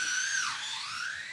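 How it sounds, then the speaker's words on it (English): A dentist's drill whines steadily at a high pitch, its tone sliding down and back up while it runs alone and fairly loud, ending with a sharp click. "We'll just wait till that drill stops"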